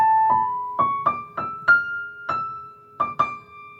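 Blues scale melody picked out note by note high up on a piano, about nine clear separate notes ringing in a slow, even pace, close and alone with no talking.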